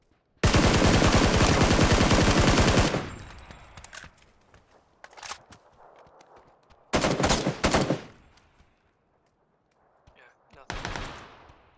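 Shooter video game gunfire: a long, loud sustained burst of automatic fire, then shorter bursts after pauses, with a player's voice talking over the action.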